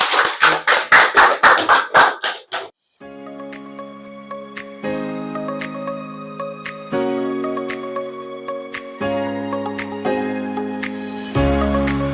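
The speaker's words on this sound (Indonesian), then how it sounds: "Oke, tepuk tangan untuk kelompok 2." A classroom of students claps for a presenting group, about a dozen quick, sharp rhythmic claps in unison that stop after a few seconds, followed by sustained tonal music.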